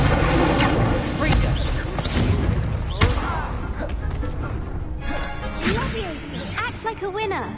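Incendio fire spells cast in the video game Hogwarts Legacy: repeated whooshing, crackling bursts mixed with other spell effects and game sounds, with people talking over them.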